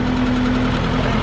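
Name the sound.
tractor engine running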